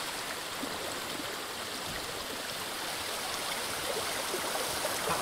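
A flowing stream in the video game Ghost of Tsushima, a steady, full rush of running water that holds an even level from start to finish, close and without talk.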